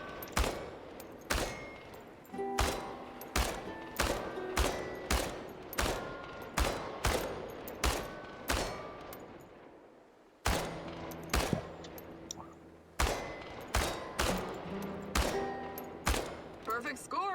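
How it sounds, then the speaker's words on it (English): Video game gunfire aimed at tin can targets: a steady series of sharp, loud shots spaced about half a second apart, each ringing briefly, with a short pause midway before the shooting resumes. "Commence firing."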